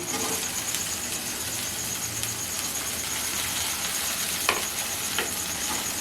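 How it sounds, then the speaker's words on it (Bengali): Onions frying with chopped green chilli and tomato in a pan, a steady close sizzle with occasional scraping stir strokes, no talk. "এবার আরও কিছুক্ষণ এটাকে নাড়াচাড়া করব যতক্ষণ না এটা আরেকটু নরম হচ্ছে।"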